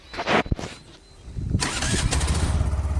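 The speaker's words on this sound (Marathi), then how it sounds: "मित्र मित्रांनो गाडी चालू झाली गाडी" A vehicle engine cranks briefly, then catches and settles into a loud, steady low rumble that carries to the end, close by, with no talk over it.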